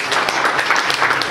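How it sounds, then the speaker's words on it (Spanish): Steady, dense applause from an audience at a municipal therapeutic centre in Huaquillas, continuous and fairly loud throughout the short stretch with no voices over it. "Fuerte el aplauso para el señor Jonathan Torres"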